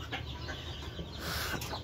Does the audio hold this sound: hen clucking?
yes